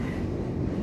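An EMU817+EMU818 smile-livery local train departs Shiliu station for Ruifang via the mountain line, a steady, loud rumble of rolling stock with no voices over it.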